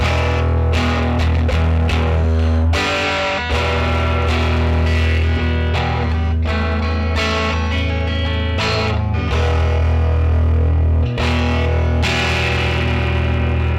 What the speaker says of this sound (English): Now this is a very dirty amp.